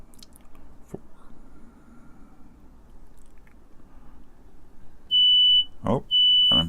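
A vintage mid-1970s wire-wrapped up/down counter/timer sounds its alarm with a shrill, steady electronic tone in two bursts near the end, a sharp click between them, over faint room hiss.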